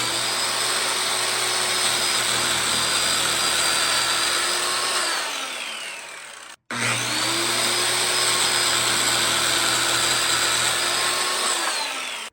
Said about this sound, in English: let's do a couple cuts with the corded circular saw to see how it might compare